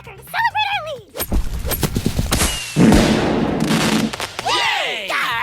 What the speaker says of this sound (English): Let's fill it with a firecracker to celebrate our lead!